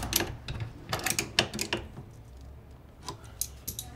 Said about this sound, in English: Just tighten them up there with a spanner.